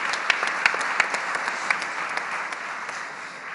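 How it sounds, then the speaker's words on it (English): An audience at a travel industry event breaks into steady applause, a dense, even patter of many hands with a few sharper nearby claps standing out, no speech over it. "I think that deserves a round of applause"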